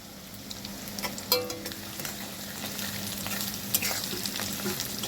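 Chopped ginger and garlic sizzle in oil with red-browned onions, a steady close frying hiss with occasional scraping stirs and a faint low hum underneath, no speech.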